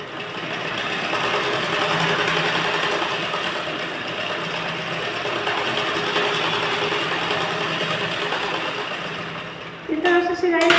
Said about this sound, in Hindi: अब हम एक सिलाई यहाँ से सीधी लगाएंगे।